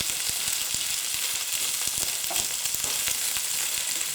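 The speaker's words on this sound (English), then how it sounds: "Let's just give the courgettes a bit of a turn over." Courgettes fry in hot oil in a pan with a loud, dense, steady sizzle and scattered crackles and pops, close up and continuous, with no talking.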